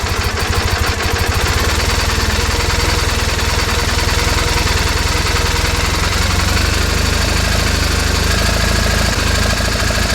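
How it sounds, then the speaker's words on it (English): A 2001 Triumph Bonneville motorcycle engine runs loud and close at a steady, rough-sounding idle with a continuous throbbing pulse and no clear rise in revs. "here it is running at low idle. Let's rev it up a little."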